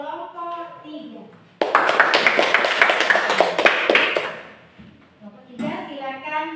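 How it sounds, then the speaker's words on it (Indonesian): Students in a seventh-grade maths classroom clap for a group after it presents; a burst of many hands lasts about four seconds, framed by a teacher's voice before and after. "Beri tepuk tangan untuk kelompok 3."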